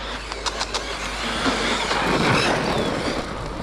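A Team Corally Kagama Limited Edition RC car's electric motor runs on its first outing. It gives a steady, close whirring drone that swells slightly in the middle, with no voices.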